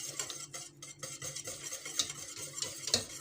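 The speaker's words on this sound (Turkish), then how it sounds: "İyice çırpacağım bunu." Flour mixture whisked in a pot before the heat is turned on makes quick, rhythmic metallic scraping and tapping strokes, close and fairly quiet, with no talking.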